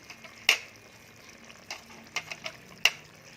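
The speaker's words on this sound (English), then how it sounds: "I give a good stir like that" A spoon stirring beef rendang with bay leaves, cloves, lemongrass and white pepper in a pot, making a few faint, sharp clinks and scrapes against the metal at irregular intervals.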